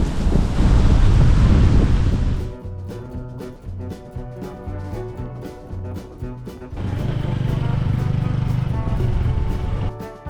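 Strong wind and surf at Pak Nam Pran Buri beach roar loudly at first, then drop under music before the rushing surf noise swells back beneath it.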